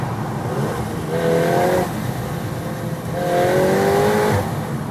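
A VW Golf R Mk8 333 hp special edition accelerates in a tunnel, its engine swelling twice in loud rising surges, with echoing rumble throughout.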